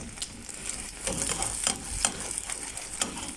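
Egg scrambling and frying in a pan for an egg sandwich, a steady close sizzle broken by repeated scraping stirs of the utensil against the pan.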